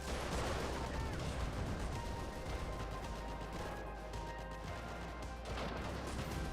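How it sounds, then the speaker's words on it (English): Rapid machine gun fire in a video game, a continuous dense rattle with booming explosions mixed in, steady and fairly distant-sounding, alone without talk. "My machine guns aren't doing anything against this."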